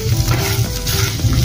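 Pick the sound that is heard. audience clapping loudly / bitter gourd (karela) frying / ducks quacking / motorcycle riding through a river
bitter gourd (karela) frying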